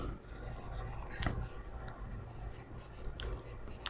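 Pen strokes scratch across paper as a class 8 math problem is worked out by hand, quiet intermittent scribbles with a few sharper taps, while someone talks steadily throughout.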